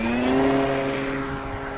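A MULTIPLEX-equipped RC model airplane's electric motor runs at full throttle with flaps half extended for takeoff, a loud steady whine with rising harmonics that holds strong then eases slightly, with no talking.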